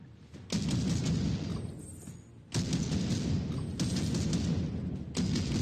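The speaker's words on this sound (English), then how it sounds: "The shooting feels really good too. Every shot is impactful." Gunfire from a heavy gun in the Meta Quest VR game Warhammer: Battle Sister: four loud, booming shots about one to two seconds apart, each with a long, sustained rumbling tail.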